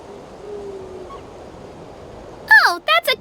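A cuckoo soar bird calls in the Genshin Impact video game: after a quiet stretch, a loud cluster of bright chirping, warbling notes bursts out near the end in about three quick phrases.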